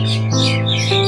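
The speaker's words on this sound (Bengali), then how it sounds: "পাখিগুলো মারামারি করতে শুরু করে দিয়েছে।" Birds squabble and fight close by, making a loud burst of shrill, sustained chirping calls that shift in pitch over about a second.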